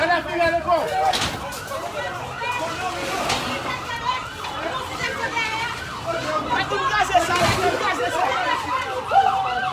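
A fire engine siren wails repeatedly as it arrives at a house fire in Bourèk, Jérémie, rising and falling beneath constant chatter from children and adults nearby.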